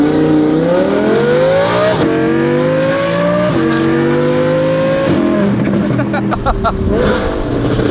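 An Audi R8 sports car with a Valvetronic exhaust revs hard through several rising pulls, each cut by a quick gear change, loud and close with crackles late on.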